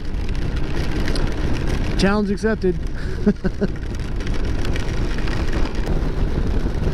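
Steady rain and road wash roar continuously while riding a motorcycle in the rain, a broad unbroken hiss with engine rumble beneath; someone speaks briefly over it.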